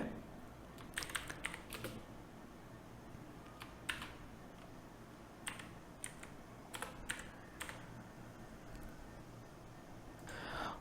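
Fingers typing on a computer keyboard, scattered bursts of quick clicks with pauses between them, close but soft over a quiet room.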